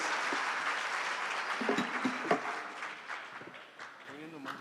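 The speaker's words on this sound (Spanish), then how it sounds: "solo quiero pedirles un aplauso para estos tres empresarios muy importantes del país" Audience applause after a request to honour three business leaders on a pharmaceutical distribution panel, a broad steady patter of many hands with brief voices cutting through, tapering slightly toward the end.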